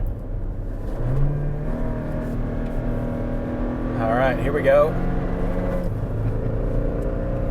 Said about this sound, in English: That's got genuine good power.